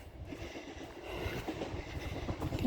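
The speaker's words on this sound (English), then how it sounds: "You can hear the train in the background." A train rolls by in the background, a faint low rumble with soft rhythmic clatter that swells slightly toward the end, near a street with steep steps leading to the station.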